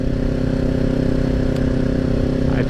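Kawasaki Ninja 400 motorcycle being ridden, its mid-pitched engine droning steadily at a constant throttle with road and wind noise, heard up close and without speech.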